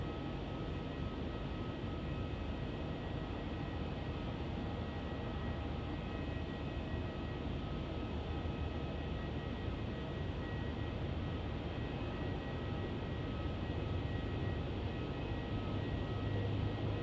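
A Qantas airliner takes off from runway 27 at Melbourne Airport, a steady, loud broadband jet roar that holds constant throughout with no voices over it.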